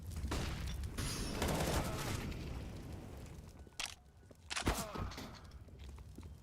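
Rapid bursts of gunfire and booming explosions from a competitive tactical shooter match, dense volleys at first, then a sharp close burst, with no talk over them.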